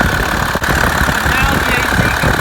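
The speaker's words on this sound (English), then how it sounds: "the AC compressor is spinning" An engine runs with the AC compressor spinning on a second-generation Dodge truck, a loud, close, steady idling drone with a mechanical rattle and no pauses.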